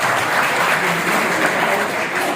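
Steady, dense applause from an audience at a Vital Tea lucky draw in Hashilpur, holding at an even level from start to end with no clear speech over it.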